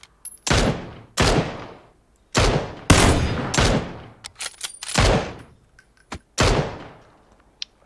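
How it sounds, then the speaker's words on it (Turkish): Gunfire in PUBG: about eight loud, close shots and short bursts in an irregular rhythm, each with a quick decaying tail, and no talking. "Biri sağdan sıktı bana."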